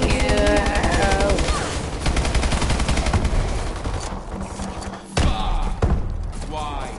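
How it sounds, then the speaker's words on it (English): Rapid automatic gunfire from a sentry gun in Call of Duty Advanced Warfare Exo Zombies, dense bursts that thin out midway, with game effects and voices talking over the shooting. "You just set them up and they shoot all by myself. No, I was in front of the sentry gun."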